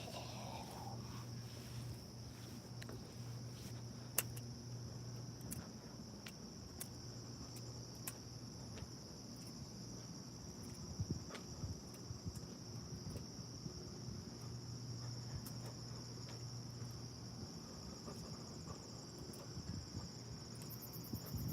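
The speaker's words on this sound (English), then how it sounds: "Is that a cricket or whatever that is?" A cricket chirps steadily through a quiet night at 3am, a continuous high shrill trill that stays even throughout, with faint low rumble and occasional soft background noises.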